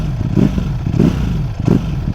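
A Ducati Streetfighter V4 S exhaust burbles at low revs, a loud close rumble pulsing in three rhythmic surges.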